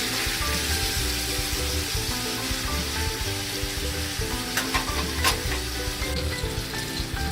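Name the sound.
lemon chicken sizzling on the grill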